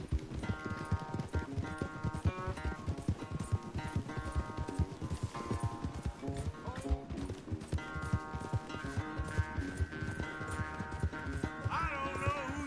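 Horses gallop hard in a race in Red Dead Redemption 2, a rapid, continuous drumming of hoofbeats with music layered over it throughout.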